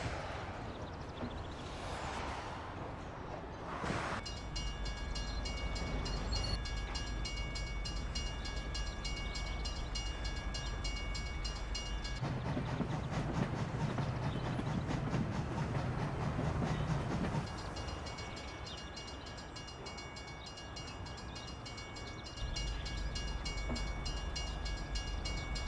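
Loud, continuous rumble of a passing train in Mafia: The City of Lost Heaven, with clattering wheels, whining tones and shifting intensity as carriages roll by close at hand for the full length.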